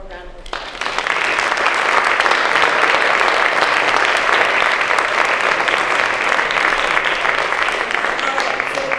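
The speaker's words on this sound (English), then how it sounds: "can we give all of our junior thespians one more round of applause?" An audience gives junior thespians a round of applause, dense and sustained clapping that swells quickly and holds steady for several seconds, loud and close.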